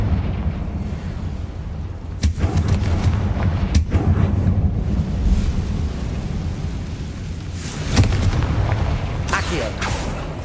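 Confringo fire-bolt spell explosions in Hogwarts Legacy, a loud dense rumble with sharp blasts near 2, 4 and 8 seconds over continuous booming game noise, with voices heard now and then.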